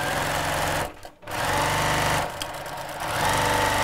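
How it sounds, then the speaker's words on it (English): A domestic sewing machine stitches a curved-top tote bag, running loud and steady, pausing briefly, then running again, with a short dip near the end. "Let's sew down there."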